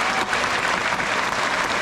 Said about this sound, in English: even if all of you try clapping your hands. Come on, go ahead. Louder.